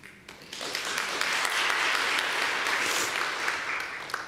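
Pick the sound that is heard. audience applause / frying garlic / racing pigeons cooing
audience applause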